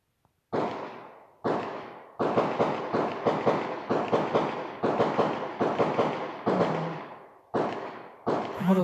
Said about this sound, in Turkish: mahallede silah atışı var. Atış yapıyorlar.